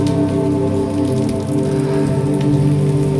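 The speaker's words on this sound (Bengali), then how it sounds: "তার কিছু সময়ের মধ্যেই নেমে এলো বৃষ্টি" Steady, dense rain falling in the mountains at Khajiar, a constant close patter over a continuous low hum with no voices.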